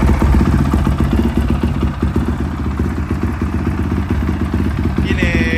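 A Tornado 420cc motorcycle engine runs with its exhaust plugs removed, giving a loud, steady, rough idle with rapid thumping pulses throughout, and a brief higher whine near the end.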